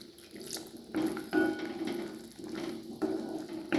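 Water splashes in short pours into a simmering pea and potato gravy, gurgling bursts that come and go over a faint background hiss.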